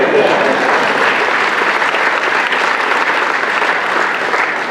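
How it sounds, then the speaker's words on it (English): Audience applause fills a town hall event with John Kasich at MVCC, a dense, steady wash of clapping from a large crowd that holds loud and even for about five seconds, with no talk over it. "Give yourself a round of applause."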